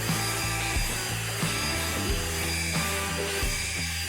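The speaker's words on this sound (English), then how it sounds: "I honestly think this is the most powerful electric blower that I've tried to date." A SENIX 60V brushless cordless leaf blower runs continuously at close range, a loud steady whine with a rising and falling motor pitch and no talking.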